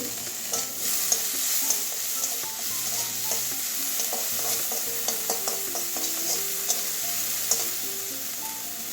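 Ginger-garlic paste added to onions frying in a pan, a steady sizzle under repeated close scraping and clinking of a spoon as it is stirred.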